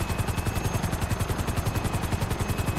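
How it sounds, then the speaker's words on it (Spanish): A helicopter flies in the video game GTA, its rotor producing a steady, fast rhythmic thumping at moderate volume with no other sounds. "Vamos, helicóptero bonito."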